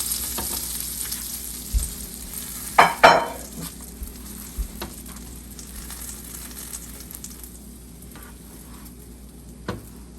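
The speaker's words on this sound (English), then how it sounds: "they go back on the stove, and this time you put a little bit of butter and you're going to roast just the outside" A bun kebab roasting in butter in a pan on the stove for Karachi street-style bun kebabs, a low steady sizzle close by with a few sharp clatters of utensils early on and a soft knock near the end.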